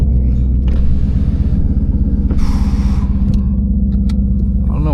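Ford Mustang GT engine, about twenty years old, heard from inside while driving on the road: a loud, steady low rumble that holds throughout, with faint road noise and small knocks over it.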